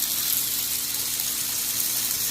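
Water runs steadily over a small spillway at a pool aquascape waterfall, a continuous, even splashing hiss that stays constant from start to finish with no voices.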